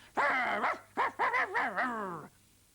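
A dog barks and yips several times in quick, uneven bursts, close and loud, with whiny tones between barks.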